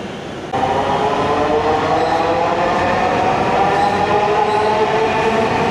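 A Dhaka metro rail train running from Mirpur 10 to Uttara North rumbles loudly and steadily inside the carriage, the drone swelling up after a quieter first half-second and carrying on without a break, with no one talking.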